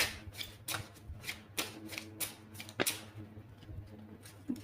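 Starseeds oracle cards being shuffled and drawn, heard as a series of soft, papery flicks and slaps in an irregular rhythm over a low background hum, close-up and moderately quiet, with no speech.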